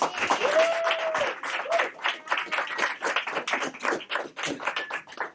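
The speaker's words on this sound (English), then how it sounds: "Let's give them all a round of applause." An audience at a mayor's ceremony honoring Albuquerque fire rescue members breaks into sustained applause, many hands clapping in a dense, steady patter that stays fairly even throughout.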